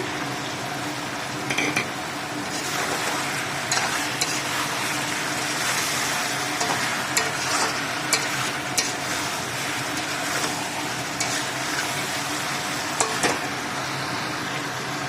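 Chicken curry with tomato and green chillies being stir-fried in a pan, a continuous soft sizzle broken by scattered scraping clicks of the spoon against the pot, close and fairly quiet.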